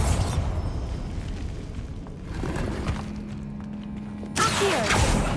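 Bombarda spell blast in the Hogwarts Legacy video game: loud, low rumbling explosion bursts at the start and end, with a quieter, humming stretch of game sound between them.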